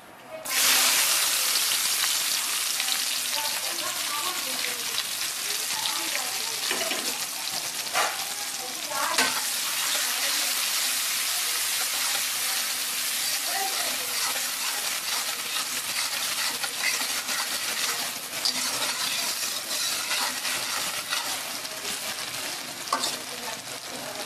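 Onions and green chilies fry in hot oil, a loud, steady sizzle held close for the whole stretch, with stirring scrapes and small bursts of spattering mixed in.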